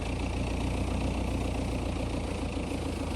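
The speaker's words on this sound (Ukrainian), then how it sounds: "Зараз ми подивимося, як в роботі працює струшувач дерев" A tractor-mounted tree shaker on an MTZ tractor runs steadily in an industrial nut orchard, its engine droning loud and close with a constant low rumble throughout.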